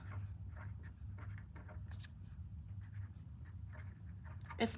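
Colored pens writing on paper, with soft, repeated scratchy strokes in short bursts under a steady low background hum.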